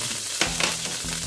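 Garlic frying in oil in a pan for igado, a brief close sizzle broken by a couple of quick stirring scrapes.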